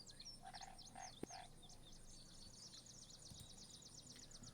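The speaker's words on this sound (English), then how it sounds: "You hear the croaking of toads or frogs" Frogs or toads croak in a quiet night forest ambience, with a few soft repeated calls near the start over a steady hiss of insects and chirping birds throughout.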